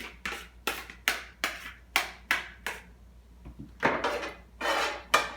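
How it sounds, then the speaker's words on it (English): Cooked ground beef goes back into an electric skillet for sloppy joes, heard as a series of sharp, evenly spaced knocks and scrapes of a utensil against the pan, close and clear. "Back into our electric skillet, we will place our hamburger."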